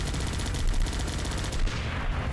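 Minigun in the Guns Up video game firing a dense, continuous burst of rapid shots, loud and close, the stream running steadily for about two seconds with no voices.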